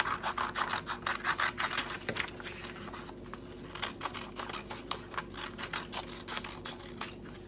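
Scissors snip through folded paper for a snowflake, up close and fairly quiet. Short rhythmic cuts and rustles repeat in quick bursts with small pauses between them.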